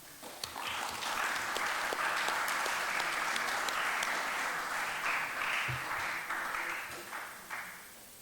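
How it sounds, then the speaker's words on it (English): Audience applause at the 40th APIL Annual General Assembly in 2023, a steady wash of many hands clapping that holds for several seconds and tapers off near the end. "Let's thank them and another round of applause."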